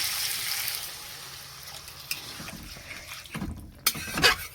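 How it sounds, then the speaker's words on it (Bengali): Water splashes into hot frying oil in a pan for a fish curry, a sputtering hiss that fades into a low simmer, with a few sharp clinks and knocks of utensils near the end. "এবার জল দিয়ে দিচ্ছি।"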